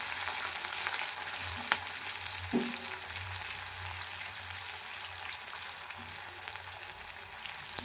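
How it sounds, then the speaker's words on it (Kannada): Chopped onion frying in oil in a pan for a village-style tomato gojju, giving a loud, steady, close sizzle that holds throughout with a few faint stirring knocks, and no voices. "ಆನಿಯನ್ ಇದು ಸ್ವಲ್ಪ ಫ್ರೈ ಆಗಬೇಕು."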